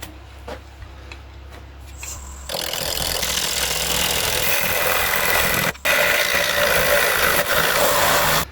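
A wood lathe turns a tenon on a cherry offcut: a few light taps, then a steady, close scraping whir from the cutting tool that runs on with one brief break, no talking.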